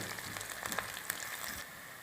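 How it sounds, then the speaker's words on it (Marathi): Onion sautéing with garlic-ginger paste in a pan, a faint, steady sizzle with soft crackles throughout. "कांदा चांगला परतायचा।"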